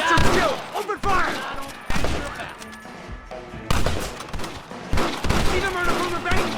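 A Red Dead Redemption shootout: a dense volley of close and distant gunshots, some cracks overlapping, with occasional shouting voices mixed into the fray.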